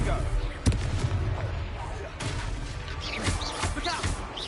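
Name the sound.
Confringo blasting curse spell effect in a Harry Potter parody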